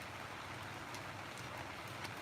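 Steady, faint rain falls with an even hiss on a rainy morning in Laos, with occasional soft drops standing out and no voices.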